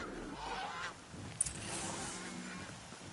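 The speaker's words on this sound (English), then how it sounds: "Hey, geese." Geese honking in Horizon Zero Dawn, several calls rising over a steady outdoor game ambience, fairly close and moderately loud, with one sharp honk standing out near the middle.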